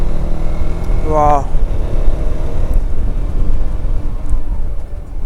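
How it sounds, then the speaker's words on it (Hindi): The engine of a modified Apache RTX 300 motorcycle roars steadily and loud on a mountain road, a deep continuous rumble with a brief rising rev near the start, as a man exclaims briefly over it. "ये जो रोअर करती है ना बाइक"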